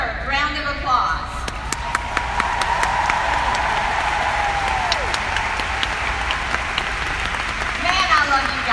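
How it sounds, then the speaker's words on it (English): Seminar audience applauding for standing directors and consultants, a sustained loud round of clapping from a large crowd with a few sharp individual claps and a voice over the start and end. "Would my directors and consultants please stand for their well-deserved round of applause?"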